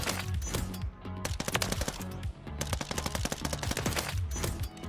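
Sustained automatic rifle fire from the Vaznev in the video game Modern Warfare 3, loud rapid bursts with brief pauses, close and continuous with no talking.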